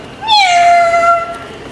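A house cat gives a single clear, drawn-out meow close by, rising then sliding into a long steady tone, over quiet room background in a kitchen.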